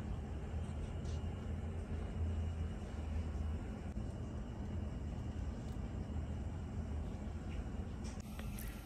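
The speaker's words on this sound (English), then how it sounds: "And you guys can hear the city sounds in the background." Rainy morning on a New York City street gives a low, continuous traffic rumble and wash of distant vehicles, fairly faint and steady with no clear voices.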